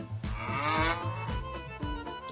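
A dairy cow in the video game Lineage Remastered lets out a long, low moo that swells and fades, loud and close, with no talking over it.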